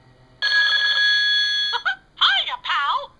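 A telephone rings with a loud, steady electronic trill for over a second, then a voice speaks cheerfully right after it.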